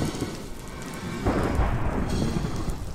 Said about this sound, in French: T'as vu l'orage et tout